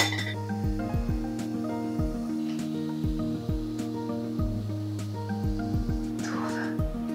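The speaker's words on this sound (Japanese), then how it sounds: "炭酸の面にアイスを触れさせないために氷をこうやって足します" Ice cubes clink and knock one after another into a glass of layered cream soda, a bright close series of rattles over soft background music.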